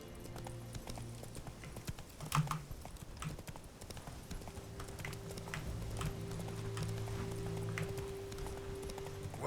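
Roach, the horse in The Witcher 3, trots in a steady rhythmic clip-clop of hooves for the whole stretch, fairly close, over a low game ambience with a sustained tone and occasional louder hoof hits.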